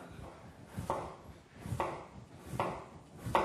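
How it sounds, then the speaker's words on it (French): A sharp knife slices white radish into thin rounds on a board, producing four evenly spaced, close, crisp cuts, each a quick crunch ending in a soft tap. "j'ai vraiment détaillé le radis blanc en fines rondelles"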